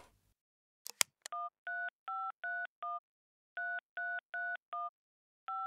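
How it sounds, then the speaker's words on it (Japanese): A few clicks, then a quick series of mobile phone keypad beeps, evenly paced dialing tones in two bursts, clear and close. "とにかく携帯鳴らしてみてくれない？"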